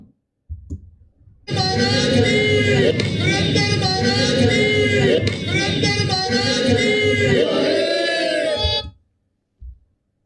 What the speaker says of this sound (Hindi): और फिर उस जयकारे का समर्थन करने के लिए सारी भीड़